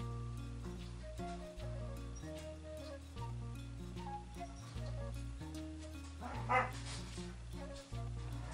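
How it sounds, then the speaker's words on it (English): Several dogs play-wrestle and bark with yips and whimpers, fairly faint and in the background, in a room while a craft tutorial making Valentine's Day dominoes with varnish is under way. "can you hear my dogs wrestling?"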